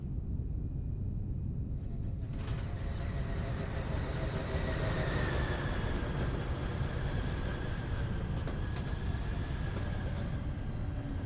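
Trains rumble along tracks in a railway-building video game, a steady low rolling drone with faint higher whines and a soft hiss joining after a couple of seconds, continuous throughout.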